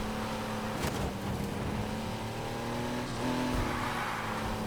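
Engine whine of an F1-inspired Volkswagen Beetle race car cornering hard in the Need for Speed Heat video game, a steady loud drone with shifting pitch through the turn, a brief squeal and a rise as it powers out.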